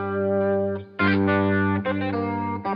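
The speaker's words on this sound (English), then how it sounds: "let's do that again with the chorus on." Desert blues electric guitar played through a chorus effect gives a shimmering, slightly distorted tone, with a held note followed by a few plucked phrases, close and loud with no voices.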